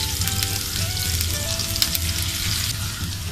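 Chopped onion sizzles steadily in a hot pan while a vegetable omelette is being made, a constant close crackle and hiss with faint stirring, no talking.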